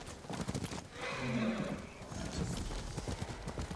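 Horse hooves clip-clop steadily alongside a neigh in Ghost of Tsushima, close and moderately loud over a busy background.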